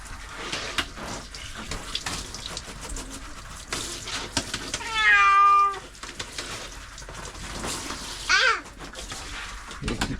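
A pet cat being washed under running tap water lets out a few short meows in the middle and near the end, against a steady background of splashing water and bird calls.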